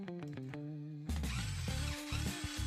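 A cheap Temu cordless electric screwdriver turns a screw, its small motor whirring steadily at close range for over a second after a few quiet clicks of handling.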